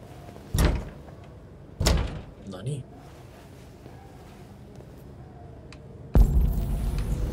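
Heavy doors in the Detroit: Become Human video game bang and thud three times, two sharp knocks early and a louder, sustained rumble near the end, with faint voices murmuring between them.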